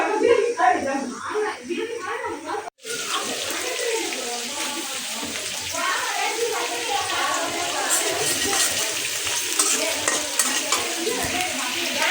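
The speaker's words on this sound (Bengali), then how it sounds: "এখানে আলুটা ভাজতে দিয়ে দিছি" Potatoes frying in a pan while noodles and meat cook, giving a steady close sizzle with stirring and scraping throughout, under a voice talking.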